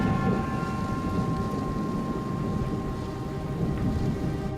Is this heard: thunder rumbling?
yes